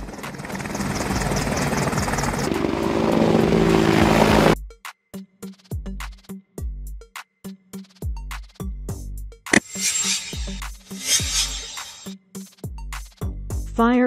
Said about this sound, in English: Army helicopter. Army helicopter.